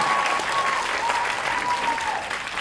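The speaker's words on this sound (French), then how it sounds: "on applaudit s'il vous plaît" Steady audience applause at a film premiere fills the room, dense and continuous, with a faint voice underneath.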